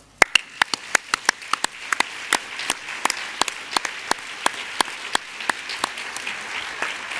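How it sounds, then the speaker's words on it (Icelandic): Audience applause for honorees at a hospital's annual meeting, a sparse round of distinct, sharp claps from a few nearby hands over a softer patter, steady throughout with no talking. "gefum þeim á lokum gott klapp"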